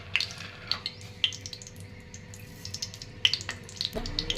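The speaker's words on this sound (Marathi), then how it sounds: "जिरी मोहरी टाकून घेते" Cumin and mustard seeds sizzle in hot oil for a tondli masala, a steady bubbling hiss sprinkled with small crackles and pops, then a brief clatter near the end.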